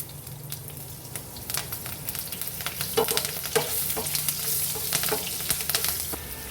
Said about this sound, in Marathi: आता याच्यामध्ये हा कांदा घालून घेते आहे